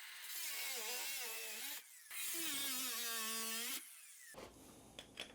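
An angle grinder with its guard removed cutting floor tile near a baseboard during tub installation repair, two loud close bursts of high whining grind with pitch sagging under load, followed by quieter clicks.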